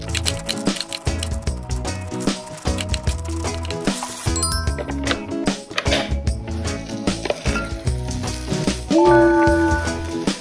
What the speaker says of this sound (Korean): 여기 기름을 바른 다음에 이렇게 눌려주는데 뒤쪽으로 좀 가라고 살짝 눌러줄게요.